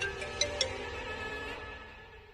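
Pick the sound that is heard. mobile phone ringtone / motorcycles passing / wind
mobile phone ringtone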